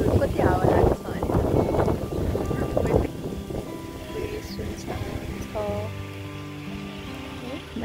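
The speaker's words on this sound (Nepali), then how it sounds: "हावा लागिरहेछ क्या, यस्तो भयो भने कपाल उडेको पनि बुझ्न सक्नुहुन्छ कति हावा लागेको छ भने" Strong wind on an evening walk outdoors in Australia, a steady, loud rushing noise buffeting the microphone throughout while a person talks over it.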